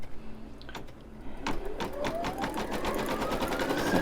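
An embroidery machine stitches a placement line on tearaway stabilizer in a 5x7 hoop, giving a steady, fast mechanical chatter. A rising motor whine is heard close up, with no talking.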